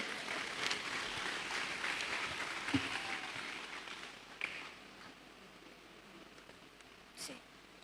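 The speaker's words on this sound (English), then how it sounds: "A big round of applause, ladies and gentlemen." A round of applause rises from the audience at a Year 6 graduation ceremony, a soft, distant patter of many hands that gradually thins out, with a few louder knocks and rustles scattered through it.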